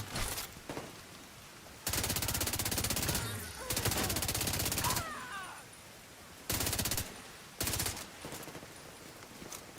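Rapid pistol gunfire in the video game Dune Awakening, several loud sustained bursts of shots broken by short pauses, with no talk over them.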